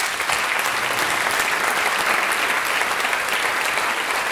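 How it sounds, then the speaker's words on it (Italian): An audience at a poetry festival in Italy breaks into sustained, dense applause for a poet, steady and loud throughout with no voices over it. "È con noi Franco Loi, io gli farei un applauso."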